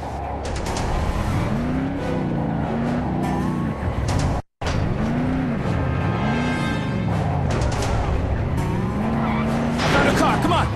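Car driving in the Call of Juarez: The Cartel video game, with a loud engine whose pitch rises and falls through gear changes, tire squeals and mechanical clatter, continuous apart from one brief cut.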